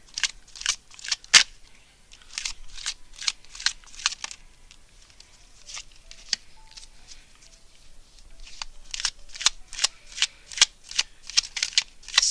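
Tarot cards are shuffled up close in repeated crisp riffling bursts, loud and rhythmic, with a short pause midway before the shuffling resumes.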